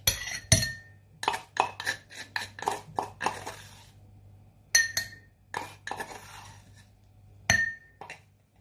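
Ginger, garlic and onion pieces are dropped into a glass jar, giving a run of sharp clinks and taps in irregular clusters, close and fairly clear against a quiet background with a low steady hum.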